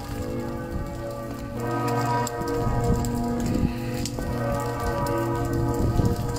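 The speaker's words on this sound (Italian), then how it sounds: "Ecco, qui piove." Steady rain pours outdoors at a Franciscan community, a dense continuous patter of drops on surfaces that stays moderately loud and even throughout, with no speech.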